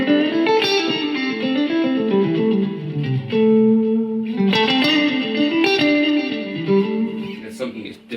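Electric guitar notes through a Line 6 Spider V amp ring out with delay repeats and a washy spring reverb tail, played in phrases with brief pauses.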